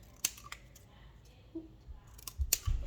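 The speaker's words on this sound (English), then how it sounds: "Now you just cut a nice little triangle." Scissors cut a small triangle out of plastic, producing a few sharp, close snips spread over a few seconds, with light handling thumps and rustles in between.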